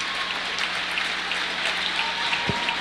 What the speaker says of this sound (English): let's give these young men and their coach a round of applause